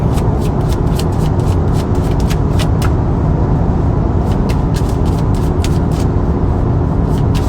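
A Tesla car driving along a road, giving a steady, broad road and tyre hum throughout with repeated sharp ticking clicks scattered across the passage, no talking.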